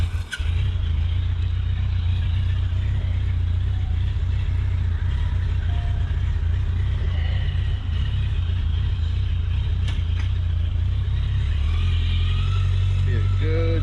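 Motorcycle ride on a $1900 bike: a loud, steady low engine drone with wind rush runs throughout, close up and nearly constant in level, with speech mixed over it.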